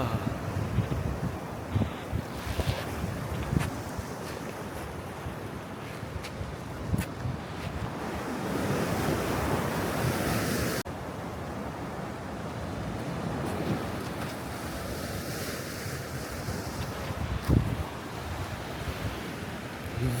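Ocean waves roll and break steadily on the seashore at Faro, a continuous rushing surf with periodic swells, mixed with wind gusting across the microphone.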